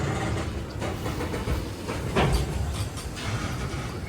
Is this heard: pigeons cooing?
no